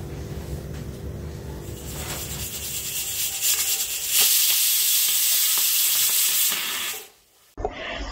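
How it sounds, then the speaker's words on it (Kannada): A steady scraping, rubbing sound of ragi mudde (finger millet balls) being stirred in a pot, continuous and close, growing slightly louder before cutting off near the end. "ಅದಕ್ಕೆ ಮುದ್ದೆ ಮಾಡ್ತಾ ಇದ್ದೀನಿ"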